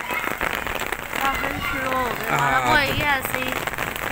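Rain pattering steadily on surfaces on a rainy day in Lahore, Pakistan, a dense close hiss of drops throughout, with children's voices and chatter rising over it.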